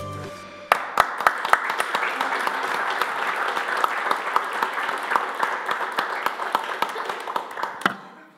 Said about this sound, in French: vous l'avez fait par vos applaudissements, remercier grandement les journalistes